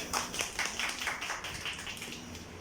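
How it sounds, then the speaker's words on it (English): Youth audience at a church presentation applauding, a scattered run of separate hand claps at fairly regular intervals, quiet and somewhat distant in the room. "Please applaud for yourself."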